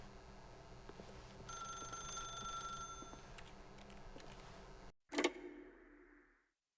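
A telephone rings in The Stanley Parable, bright repeating trills over an ambient background, then a final ring cuts off abruptly and fades away, with no voices.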